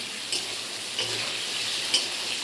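A steady, close sizzle of potatoes frying in hot oil in a kadai, with a few light clicks from stirring.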